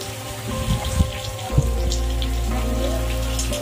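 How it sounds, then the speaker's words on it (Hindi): Heavy rain pours during a storm, a loud continuous hiss close by, with a few knocks early on and a deep steady rumble settling underneath. "बारिश का देखो कितना ज्यादा हो रहा है"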